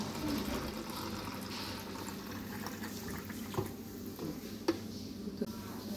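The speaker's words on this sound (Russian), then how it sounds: "Аппарат с водичкой в раздевалке попьем." A water dispenser in a spa changing room pours water into a cup. The stream runs steadily and fairly quietly nearby, with a few small clicks and knocks, and no speech.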